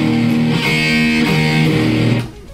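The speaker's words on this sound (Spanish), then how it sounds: "Voy a ocupar el MD2 de voz, que es un mega distortion." An electric guitar plays through a Boss MD-2 Mega Distortion pedal into a Marshall amp, heavy saturated chords ringing with sustained buzzing tone for about two seconds before cutting off.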